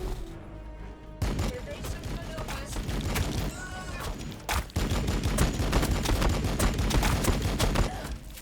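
Seraphim bolters fire in the video game Warhammer Battlesector, rapid bursts of loud gunfire rattling almost continuously after a brief quieter opening, with a short pause midway.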